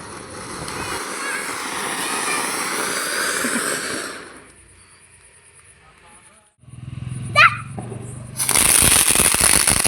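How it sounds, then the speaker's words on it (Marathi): Firecrackers set off after a Tulsi Vivah ceremony: loud crackling bursts fill the first seconds, then a lull, a sharp whistling pop, and another dense volley of crackers near the end. "नंतर फोडले आम्ही फटाके"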